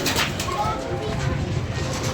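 Pigeons cooing in a rooftop loft setting, low soft coos repeating under a steady background of nearby voices and movement.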